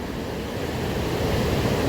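A continuous loud roar of rushing floodwater, steady and unbroken, with nothing else standing out.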